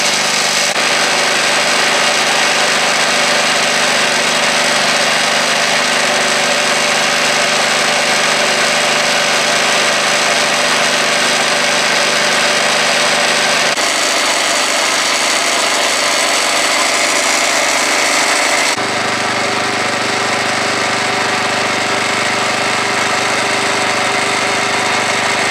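An engine-driven gear pump runs steadily and loudly while mixing sugar syrup for feeding bees. It holds a constant mechanical drone, and its tone shifts abruptly twice as the load changes.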